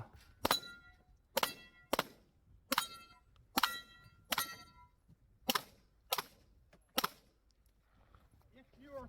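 Gunfire striking steel targets at a shooting match: about nine sharp, ringing impacts spaced roughly a second apart, clear and fairly loud, with faint voices in the background.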